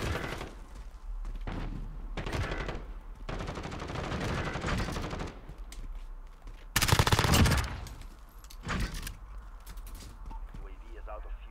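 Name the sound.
gunfire in video game Call of Duty Modern Warfare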